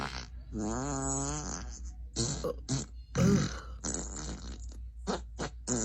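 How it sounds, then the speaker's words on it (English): Amazon Alexa smart speaker plays a run of cartoonish fart sound effects, one long wavering blast followed by a series of short sputtering bursts of varying length, played close and fairly loud with no talking over them. "Time for me to fart 17 times."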